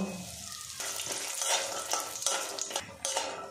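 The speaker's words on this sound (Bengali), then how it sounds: "এবার এর মধ্যে 2 মুঠো পরিমাণে বাদাম দিয়ে ভেজে নেব" Two handfuls of peanuts fry in hot oil, giving a steady close sizzle broken by scraping stirs and a few light utensil knocks, with no talking.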